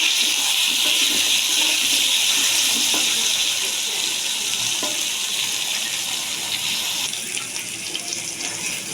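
Potatoes fry in hot oil in a home kitchen, giving off a steady bright hiss and sizzle that continues throughout and eases slightly near the end.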